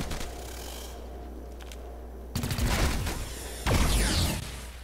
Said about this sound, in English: What is this firing though?